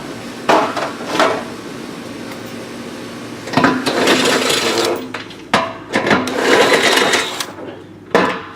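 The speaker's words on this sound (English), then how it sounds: "We switch it, holding it with the drill, take it off." A power drill whirs in several short bursts removing hurricane window shutter fasteners, with knocks and metallic clatter between them, close by and loud, no talking.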